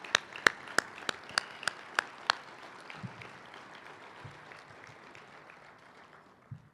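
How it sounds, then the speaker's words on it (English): A handful of sharp, evenly spaced claps ring out close by at an NACD annual meeting closing session, then give way to a faint, thin patter of applause from the audience. "Let's give them a big round of applause."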